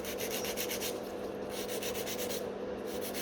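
Gel nails are filed with a 100 grit nail file in steady rhythmic back-and-forth rasping strokes, close and continuous, with no voices.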